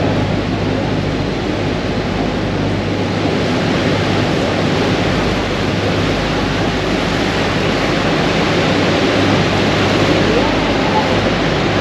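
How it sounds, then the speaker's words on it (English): Niagara Falls roaring beside a tour boat on the Niagara River near the American Falls: a loud, unbroken wash of broadband roar with wind buffeting the microphone and no let-up. "look to port, or the left side of the boat, where we will pass the American Falls"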